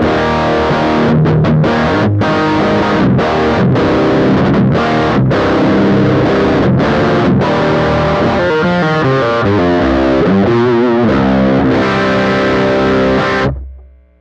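Electric guitar played through a Master Effects Super Forty bass amp pedal, clean with low gain, strummed chords giving way to picked melodic lines, loud and close, ending with a quick fade.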